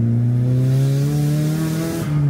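A tuned Nissan S15 or Toyota JZX100 engine revs loudly and steadily close by, its pitch climbing gradually through a sustained rev before a brief dip near the end.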